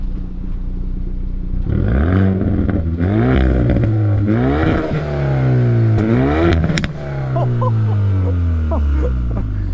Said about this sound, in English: Do you want to rev it while I'm filming it?